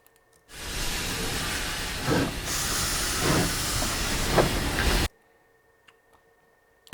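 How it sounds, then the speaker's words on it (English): A loud burst of hissing steam starts abruptly, holds steady for several seconds with faint chuffing pulses, then cuts off into near silence. "Steam train, there we go."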